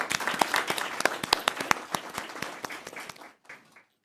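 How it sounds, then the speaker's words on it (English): A school board meeting audience claps for students, a loose run of distinct, close hand claps that thins out and fades near the end. "let's give our students another round of applause for all their accomplishments"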